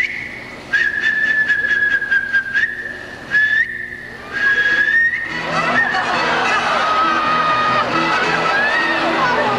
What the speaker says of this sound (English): She whistled the bird down.